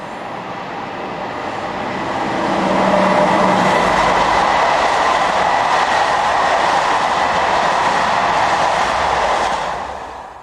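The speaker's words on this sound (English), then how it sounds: "15045 heads this southbound express." Electric locomotive 15045 hauls a southbound express train past, a steady broadband rail roar that swells after a few seconds and holds loud, with a faint rhythmic clatter of wheels before easing near the end; no voices.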